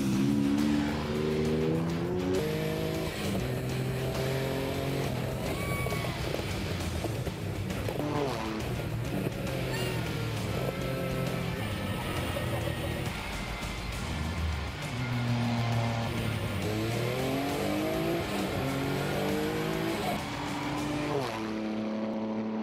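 Single-seater monopost race car starting and driving, a loud engine close by revving up and down through rising and falling pitches over a steady roar, with some tire noise and no clear talk.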